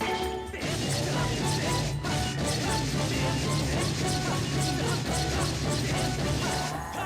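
Sword strikes hacking at an enemy's shield in the video game Skyward Sword, a dense run of loud smashing, clanging hits over busy game music and effects.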